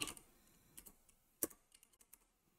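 Quiet typing on a computer keyboard while coding CSS, a short scattered run of soft individual keystrokes heard alone and close up.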